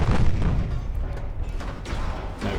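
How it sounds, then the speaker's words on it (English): Battleship main guns firing in Ultimate Admiral Dreadnoughts: a quick run of deep, booming cannon reports over a rumbling low roar, loud and close. "let's get those main guns to work"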